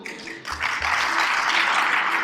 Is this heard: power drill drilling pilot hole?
no